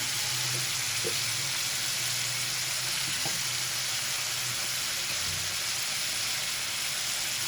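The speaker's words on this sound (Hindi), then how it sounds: "दो मिनट के लिए ढक के पकाएंगे ताकि मसाले अच्छी तरीके से भून जाए" Spiced masala for qeema matar with methi cooks in a pan, heard as a dense, even sizzle and bubbling frying hiss throughout, with a few faint knocks and no voices.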